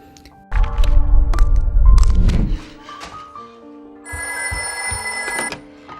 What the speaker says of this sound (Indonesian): Dia menerima panggilan telepon dari Margaret